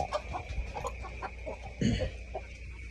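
Chickens, including Black Australorp breeders, clucking close by in a backyard coop, with several short soft clucks and one louder burst near the middle over a steady background hum.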